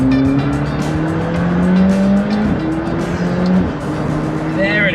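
A Gulf-liveried McLaren 720S sports car accelerates hard, its engine note climbing through the gears, loud and heard from inside the cabin, with people talking over it.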